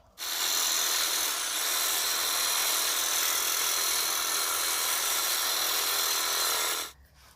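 A Keyang cordless saw cuts through a tree branch outdoors, giving a steady, loud, buzzing whine that runs for about seven seconds before stopping abruptly.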